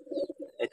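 A pigeon coos softly in a short, close call made of two or three low throaty pulses, alone without talking.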